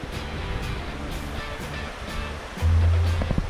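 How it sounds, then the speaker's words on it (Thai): Water rushing from a waterfall and stream along a forest trail, a steady close wash of flowing noise that swells louder near the end. "ได้ยินเสียงน้ำตก ได้ยินเสียงลำธารอยู่"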